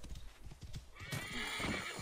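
A horse whinnies in Assassin's Creed Origins, a loud bright neigh rising after a stretch of hoof clip-clop, set in ancient Egypt near Heracleion.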